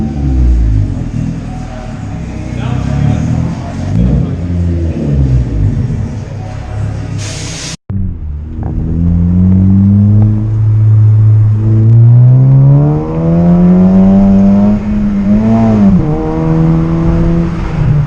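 A 2013 Honda Civic Si fitted with a Skunk2 exhaust revs loud and close, its pitch climbing and falling in long sweeps after a brief cut, with a steady rumbling note throughout.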